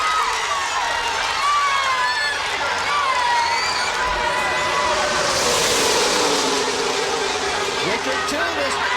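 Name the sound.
roaring crowd at Talladega NASCAR race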